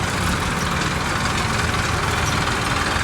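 A tractor's engine idles nearby at a village Holika Dahan gathering, giving a steady, loud, low rumble throughout with no break.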